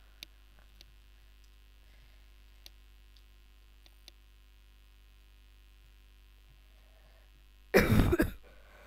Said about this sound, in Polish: Przepraszam was za kaszel.